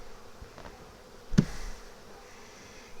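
A swarm of honey bees hums continuously near a hive during a transfer into a larger box, broken by one sharp knock from handling equipment midway.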